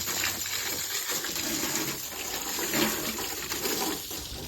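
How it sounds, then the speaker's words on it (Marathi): Steady, close hiss of water spraying onto a vehicle being washed, continuous and fairly loud throughout with no voices. "आता पाणी मारणं चालू आहे"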